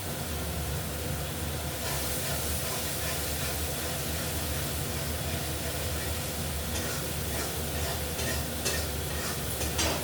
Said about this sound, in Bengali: এখন ভালো করে মশলাটা কষিয়ে দেবো